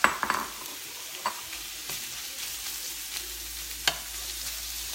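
Diced onion for a large pot of chili cooks gently on a stove with a quiet, steady sizzle, broken by a few scattered stirring scrapes and clinks against the pot.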